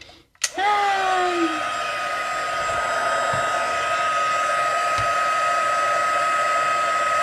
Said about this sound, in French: maintenant, mon pistolet est chaud, donc ça va chauffer beaucoup plus vite